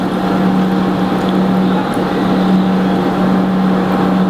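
Water poured in a steady stream onto a Sutera bath mat, a continuous, loud, even rush with a low hum beneath it and no pauses.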